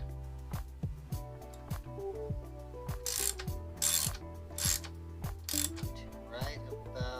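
A hand ratchet clicks in quick repeated bursts while tightening fork nuts on a Giant Trance X mountain bike during an overhaul, crisp and close with brief pauses between strokes.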